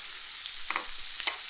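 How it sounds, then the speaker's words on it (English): Steak searing in an uncoated stainless steel pan gives a steady, close hiss of sizzling throughout, with a few brief crackles and pops rising above it. "you then got to hear that sizzle"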